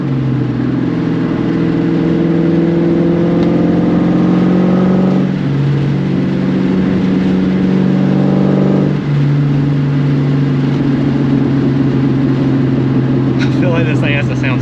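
Edge-generation Mustang GT with a 2-valve V8 and catless X-pipe exhaust, heard from inside the car as a loud, steady droning rumble with rising revs that drop off twice as the car shifts, then settles into a cruising hum.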